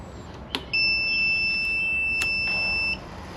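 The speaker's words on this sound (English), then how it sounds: "let's see if we hear a fuel pump" A fuel pump on a Cannondale motorcycle primes with a steady high electric whine lasting about two seconds, preceded by a click and ending abruptly.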